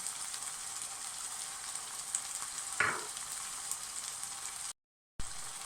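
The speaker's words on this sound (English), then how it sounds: "Next, let's add in our tomatoes and our green chilies at the same time." Tomatoes and green chilies go into a hot pan for a red kidney bean curry and sizzle steadily, with one brief louder crackle as they hit the oil.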